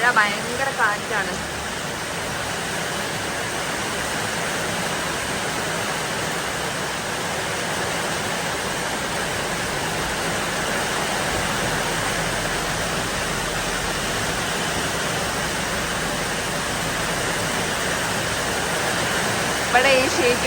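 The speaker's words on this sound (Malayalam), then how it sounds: "ഇവിടെ ഈ ഷീറ്റും കൂടെ ഒക്കെ എന്നോട് ഭയങ്കര ഒച്ചയായിരിക്കും കേട്ടോ." Heavy rain drums on a sheet roof as a dense, unbroken roar, loud and close, holding steady throughout.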